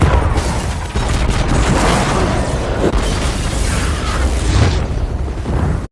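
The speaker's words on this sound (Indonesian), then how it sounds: "gedungnya langsung meledak." A building blows up in a scene from The Maze Runner film, a loud, dense roar of blast and crackling debris that continues for several seconds before cutting off abruptly.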